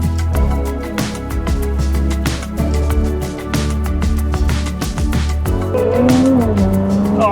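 A 2006 Porsche Cayman 987S is on the move, heard from inside the cabin. Its engine holds a steady, loud drone over road and tyre noise, and the pitch climbs as it accelerates near the end.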